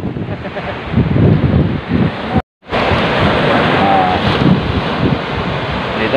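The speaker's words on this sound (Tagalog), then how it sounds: "Ganda sana lang ang spot. Kaso malakas ang hangin." Strong wind at a seaside fishing spot roars steadily across the microphone, with rough surf mixed underneath and a brief dropout partway through.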